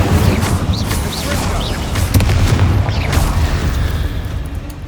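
Spell explosions from the video game Hogwarts Legacy burst in a loud, dense flurry of booms and crackles, layered with game effects and a voice calling out over the blasts.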